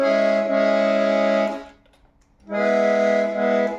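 A 23x12 button accordion sounds a sustained chord from a pressed button, held about a second and a half, cut off briefly, then played again, full and near, with nobody speaking.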